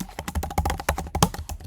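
Rapid clicking of computer keyboard keys while entering shortcuts in Ableton music software, with a dense, uneven run of close taps and no voices.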